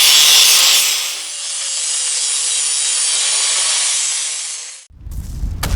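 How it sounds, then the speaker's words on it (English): Edges of a broken steel leaf spring on a home-built sawmill are beveled with a loud, close, continuous abrasive grinding rasp. It cuts off abruptly near the end, followed by a brief low rumble. "I'm going to bevel the edges on this spring and on the broken part of the eye"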